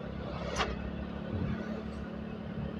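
A motorcycle overtaking traffic at night near Ngawi gives a steady engine drone and road rumble, with a brief passing swish of another vehicle close by.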